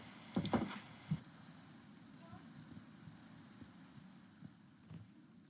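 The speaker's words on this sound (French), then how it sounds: "Il pleut." Rain falls in Minecraft as a soft, steady patter that continues throughout, with a few louder thumps and a voice reacting near the start.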